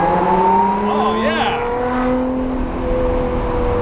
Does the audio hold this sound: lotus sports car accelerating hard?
yes